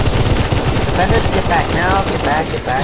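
Rapid gunfire aimed at zombies in a Counter-Strike: Global Offensive zombie escape map, dense bursts of shots running continuously under overlapping voices and game noise.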